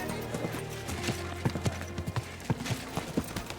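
Horse hooves clip-clopping in the video game Kingdom Come: Deliverance II, a series of distinct close hoof strikes in an uneven walking rhythm over a low background, with a brief whinny mixed in.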